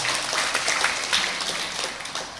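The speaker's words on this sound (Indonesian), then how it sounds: "Boleh tepuk tangan buat Bapak Ibu semua" An audience at a charity anniversary gathering claps together in a room, a continuous, moderately loud wash of many hands that carries on steadily without talk over it.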